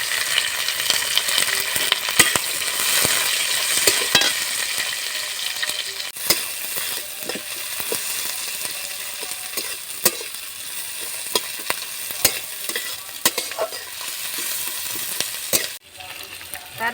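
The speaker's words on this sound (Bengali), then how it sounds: "তারপরে দিলাম আমি পেঁয়াজের কুচি, রসুন কুচি, তারপরে দিয়ে দিলাম আমি পেঁয়াজের কুচি।" Chopped onion and garlic fry in hot oil in a pan, giving a loud, continuous sizzle close by. Occasional sharp scrapes and clicks come from stirring, and there is no talking.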